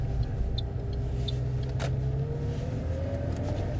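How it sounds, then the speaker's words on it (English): A car engine labours under acceleration during a mock driving test, a steady low drone and rumble with a faint tone slowly climbing in pitch, heard from inside the cabin. "So can you hear the car struggling?"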